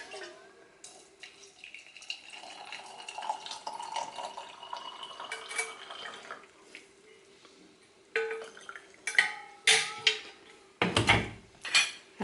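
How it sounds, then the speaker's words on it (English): Hot water is poured over green tea in a mason jar, a trickling pour and splashing inside the glass, followed by sharp clinks and knocks of the jar and lid, with a voice heard briefly. "just pour hot water."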